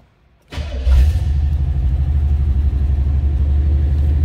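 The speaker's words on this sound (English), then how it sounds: "let's go ahead and fire this up. Let you hear it run" After a brief near-silence, a 1972 Chevrolet Chevelle Malibu engine cranks and catches with a sharp rev, then settles into a loud, steady, rumbling idle close by.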